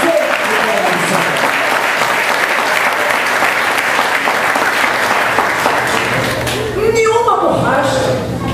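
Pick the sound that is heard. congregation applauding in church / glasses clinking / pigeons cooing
congregation applauding in church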